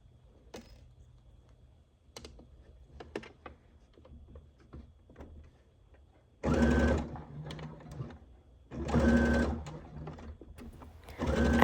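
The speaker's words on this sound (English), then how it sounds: "as you're basting your back tie in place" A sewing machine bastes the back tie of a dress in place, with two sustained bursts of loud, close stitching after scattered soft handling clicks.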